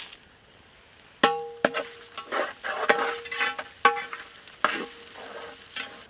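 Onions sautéing in a pan for chicken stew, with steady frying sizzle broken by repeated sharp clanks of a spoon stirring against the metal pan, close and fairly loud, no voices.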